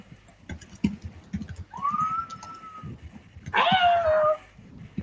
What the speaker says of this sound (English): that is a big kitty.